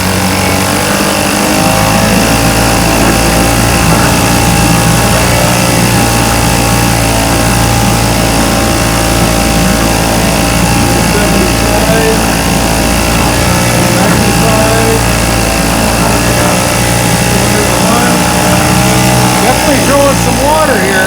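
A 1971 Johnson Mate 2 hp outboard motor runs continuously at wide-open throttle, a loud steady buzzing drone that holds for about twenty seconds.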